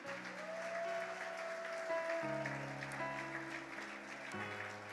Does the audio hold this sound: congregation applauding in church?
yes